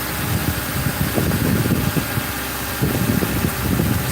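A 2005 Crown Victoria police car idles after an ignition coil and plug repair on cylinder number 4, giving a close, steady low rumble with a faint fan-like hiss and uneven little pulses.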